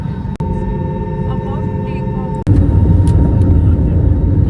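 A loud, steady jet engine drone with a high whine fills a passenger airplane cabin, abruptly shifting to a heavier takeoff roar partway through.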